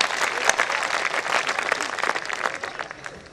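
An audience at a Hindi poetry recital bursts into dense, steady applause for a poet, many hands clapping together for the whole stretch before easing off slightly at the end.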